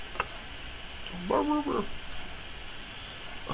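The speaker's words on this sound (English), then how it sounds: "I'm sorry if you hear my dog barking. He's barking at something." A single dog bark or yip sounds at a moderate distance against a steady background hum, with a couple of faint clicks around it.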